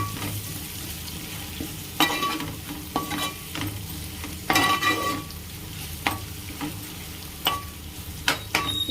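Ginger frying in a pan sizzles steadily while a spatula scrapes and clacks against the metal in irregular bursts, close and fairly loud, with no talking.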